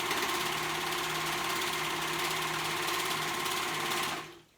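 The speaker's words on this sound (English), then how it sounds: "Using my left hand to guide my sewing machine" A domestic sewing machine runs steadily at an even whirring hum, close and loud, guided by hand, then winds down and stops near the end.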